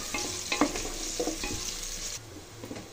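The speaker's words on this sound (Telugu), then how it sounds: "ఆనియన్స్ని బాగా కలుపుకొని గోల్డెన్ బ్రౌన్ కలర్ వచ్చేంత వరకు" Onions fry in oil toward golden brown, a dense close sizzle with spatula scrapes and stirring knocks, steady then slightly quieter near the end, no speech.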